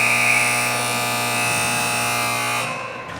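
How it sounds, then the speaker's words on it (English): A loud, steady electronic buzzer ending a youth ice hockey period blares continuously for about two and a half seconds, then cuts off, leaving faint arena background noise. "Buzzer sounds as they run out of time"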